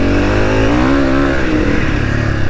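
A Honda CRF300 dirt bike engine revs hard in second gear, its pitch climbing and then falling back, close and loud, with no talking.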